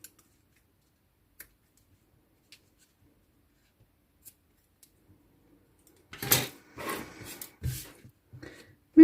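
Scissors snip through fabric for a rabbit-shaped school pencil case, a quick cluster of close, crisp cuts arriving after several seconds of near silence, with a few faint ticks scattered earlier.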